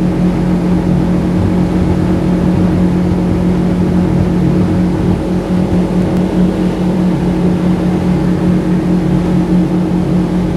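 Outboard motor on a fishing boat pushing along near shore off Newport, Oregon at 5500 rpm and about 37 mph, a loud steady drone with a constant hum and rushing water throughout, no voices.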